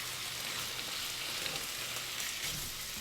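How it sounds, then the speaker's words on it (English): Pork searing in the hottest centre of a hot wok for a stir fry, giving a steady, fairly quiet sizzle with no talking. "Go ahead and get it right in the center, in the hottest part of that wok. And let it start to sear."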